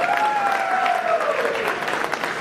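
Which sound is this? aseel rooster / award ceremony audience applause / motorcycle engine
award ceremony audience applause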